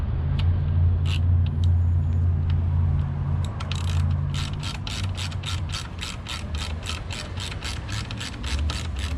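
A hand ratchet clicks in a quick, even series while tightening the bolts of a Honda Civic Type R seat fitted into an Accord, close and crisp over a low steady hum.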